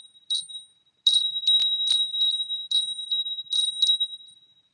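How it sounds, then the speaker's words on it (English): Small bells rung to close a yoga Shavasana: a series of bright, high tinkling chimes in clustered strikes with ringing decay, close and alone in a quiet room. "I love these little bells I have."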